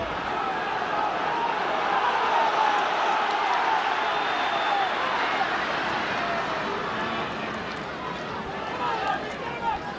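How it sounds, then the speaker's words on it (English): Supporters at an Ulster Senior Football Championship quarter-final Gaelic football match between Armagh and Tyrone, heard as a sustained, swelling crowd roar that rises and then eases, with a commentator talking over it throughout. "you can hear the roar as the ball is returned from the crowd"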